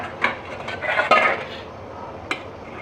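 Fish pieces for Jilebi fish kulambu go into a pot of curry with a few clinks and scrapes of utensil against metal, a short busy clatter at the start and one more sharp tap after a pause, close and fairly loud.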